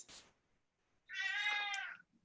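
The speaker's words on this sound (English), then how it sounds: "I hear the cat" A house cat gives one clear, drawn-out meow close by in a quiet room, preceded by a short soft rustle.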